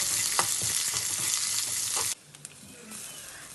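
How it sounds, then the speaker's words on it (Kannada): Onions sizzle steadily in a pan while being stirred, with a dense frying hiss and a few scraping knocks, then it suddenly drops to a quieter simmer with occasional small clicks. "ನೀರುಳ್ಳಿ ಹಾಕಿ ಚೆನ್ನಾಗಿ ಫ್ರೈ ಮಾಡಬೇಕು."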